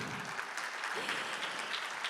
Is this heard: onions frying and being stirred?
no